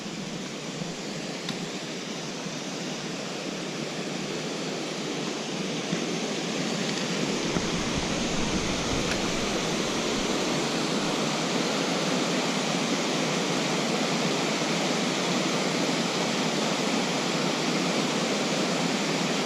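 Streams and a waterfall along a lake hiking trail make a steady, broad rushing of water, loud and continuous and fairly close, with no voices.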